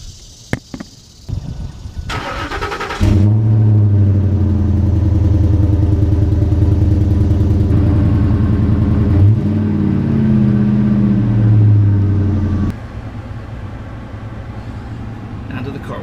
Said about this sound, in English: Cold start real quick.